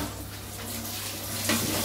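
Hot water running steadily from a kitchen tap while dishes are washed, a continuous hiss of flowing water with a low hum beneath, growing slightly louder near the end.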